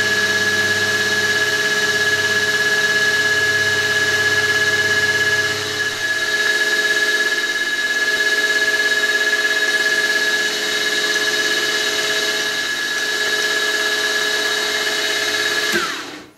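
An end mill cuts metal on a milling machine spinning at 1000 RPM under hand feed, giving a steady, loud whine with a sustained high tone that runs unbroken and stops abruptly at the end.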